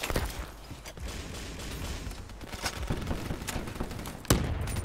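Black Ops 3 multiplayer gunfire: a dense, continuous run of rapid shots and impacts over game noise, ending in one sharp loud blast near the end, with no talk.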